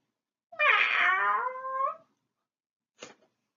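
A single drawn-out cat meow rises and then falls for about a second and a half, close and clear. After a pause comes one short, faint second sound.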